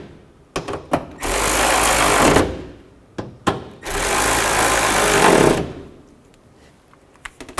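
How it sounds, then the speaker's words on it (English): Nuts being snugged down on the front grille of a 2003-2008 Toyota Matrix with a power tool: two loud buzzing bursts of a few seconds each, separated and surrounded by sharp metallic clicks and knocks, close by. "Then you can put the nuts back on and snug those down."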